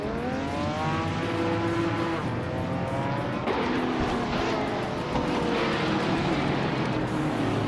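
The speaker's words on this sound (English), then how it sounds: "the race kicks off at Botniaring with Naibi leading the pack in a classic 1970 Porsche 917LH" A 1970 Porsche 917LH racing at Botniaring in a video game, engine revving up and down through gear changes with other cars roaring nearby, loud and continuous with no voices.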